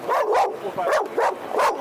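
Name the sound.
dog barking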